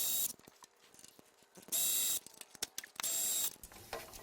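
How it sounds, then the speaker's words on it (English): Ratchet wrench removing power steering bolts on a C4 Corvette LT1 during a top-end teardown, close mechanical clicking in short bursts separated by louder bright hissy stretches, with no voices. "now we're going to get some of these power steering bolts out of here"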